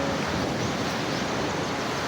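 Sea waves wash steadily on a beach in the Philippines, a continuous broadband rush of surf with wind noise, loud and close, with no voices.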